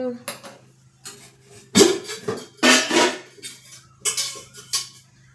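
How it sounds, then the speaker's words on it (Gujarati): A metal kadai is set down on a gas stove with clanking, scraping contacts, then the burner is lit, heard as several close, sharp bursts of pan and metal noise with faint talk between. "કઢાઈ રાખી ને ગેસ ચાલુ કરીશું"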